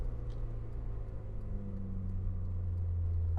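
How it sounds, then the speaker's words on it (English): A Peugeot 205 GTI modified by Tolman Engineering runs with a steady mid-pitched engine drone that builds slightly toward the end, close and continuous with no talk. "this is a 205 GTI modified by Tolman Engineering"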